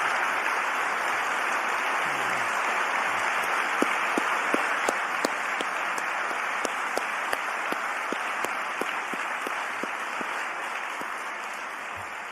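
Audience applause for the Pyne Prize winners at an Alumni Day 2022 event, a broad continuous roar of clapping with a few sharp nearby claps standing out, sustained throughout.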